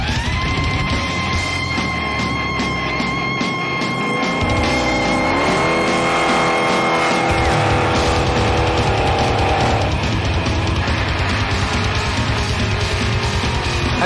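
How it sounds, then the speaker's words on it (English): A Holden Commodore VC wagon doing a burnout, engine screaming at high revs with shifting pitch while the tyres squeal and skid continuously, loud and close throughout. "You have burnouts, power skids, a bit of racing here and there I suppose"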